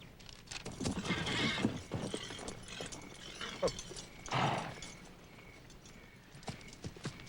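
Horses clop and shuffle nearby with a neigh amid rustling movement, fairly faint.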